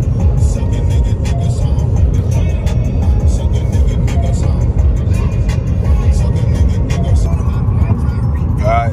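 Constant low road rumble and engine hum inside a car cruising on a highway on a long drive, steady and loud throughout, with a voice talking faintly at times.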